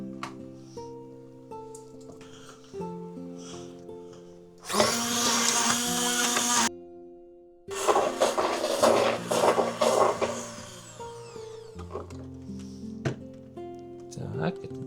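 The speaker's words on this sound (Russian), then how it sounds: "на этом этапе я теперь это все пропущу сейчас через блендер" A kitchen blender purees fried mushrooms for a creamy soup, a loud dense whir running for about two seconds, stopping briefly, then roaring again in a longer burst between stretches of talk and background music.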